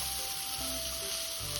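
Pre-cooked chicken coated in curry powder and turmeric sizzles steadily in a hot pan, a continuous close frying hiss with faint stirring scrapes and no voices.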